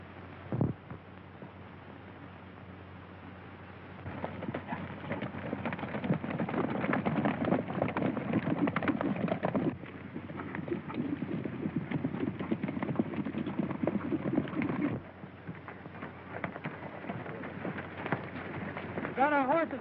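Horses gallop across open ground in a 1934 western film scene, a dense, steady drumming of hooves on dirt with a muffled, old-recording quality and little else.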